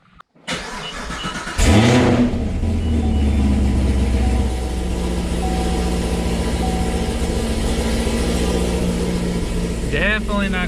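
A Chevrolet Camaro with an LT1 engine fires up from a cold start: a loud, close crank and sharp rev flare, then a steady, deep, rumbling high idle that holds to the end, with faint voices in the background.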